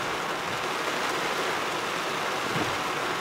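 Steady rain falls continuously on a rainy Saturday afternoon in Curtis, a soft even hiss with no voices.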